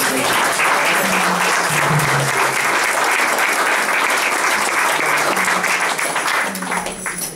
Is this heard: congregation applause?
yes